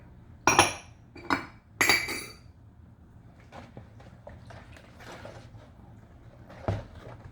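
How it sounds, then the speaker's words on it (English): A spoon clinking against a bowl while bread ingredients and sugar are mixed, with three sharp bright clinks close together near the start, then softer scraping taps and one more clink near the end, close by with no talk. "I'm gonna mix that well"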